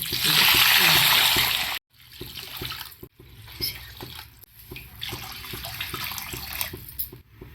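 A bright gush of water pours into a cooking pot for a couple of seconds, for moong dal rice rava upma, then stops, followed by clinks and light knocks with faint talk in the background.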